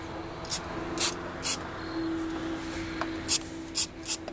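Short, sharp hissing bursts of aerosol cleaner spray on the throttle body of a 2011 Mustang GT, about seven quick squirts in uneven succession, close by over a low steady hum.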